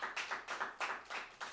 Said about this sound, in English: Give a round of applause for this 125th.